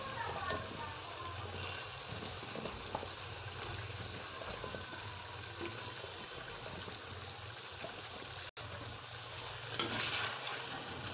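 Potatoes frying and being stirred into masala in a pan for a simple aloo shorba, a soft continuous sizzle with occasional scraping, fairly faint and steady throughout.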